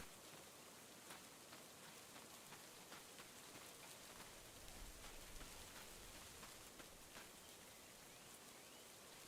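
Rain falling in the Farm Simulator video game, a soft even patter of drops hissing on surfaces, faint and continuous with no voices.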